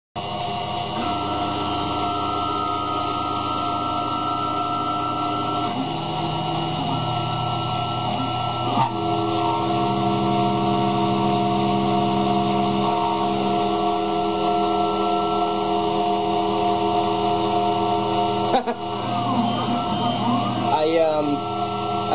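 A MaxNC mill face milling a metal workpiece, a loud steady whine of the spindle and cutter with grinding tonal changes and a few sharp knocks, continuous and close throughout.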